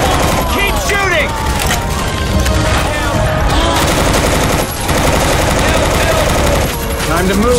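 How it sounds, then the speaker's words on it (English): Gunfire in the video game Left 4 Dead 2 during the Centrifuge campaign: loud, dense, continuous bursts of automatic shots with crackling impacts, filling the whole stretch without pause. "Keep shooting."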